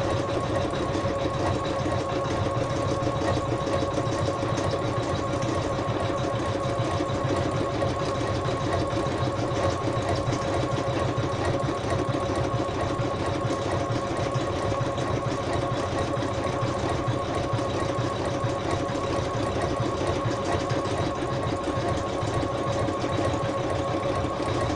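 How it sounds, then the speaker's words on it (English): An embroidery machine lays down a blanket stitch with a continuous, even mechanical hum and a fast rattling needle rhythm that runs unbroken throughout. "now laying down the blanket stitch"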